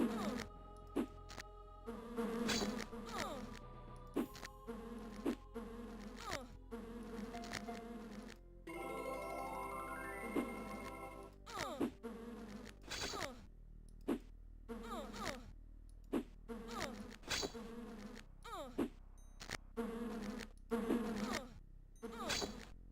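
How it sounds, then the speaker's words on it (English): Loud insect buzzing in the Lands of Lore video game comes as many rapid repeated bursts over a steady hum, with a rising tonal sweep midway and only faint traces of speech. "that really loud buzzing suggests that there's some on the other side finally"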